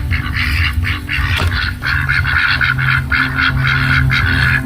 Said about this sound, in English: Hello, duckies.